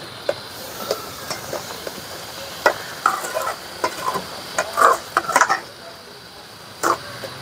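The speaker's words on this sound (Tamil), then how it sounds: "கிண்டிக்கிட்டு இருக்காங்க." A prawn and fish fry gravy is stirred in a pan, with soft sizzling under sharp, irregular scrapes and clinks of a ladle, some in quick clusters, and faint voices in the background.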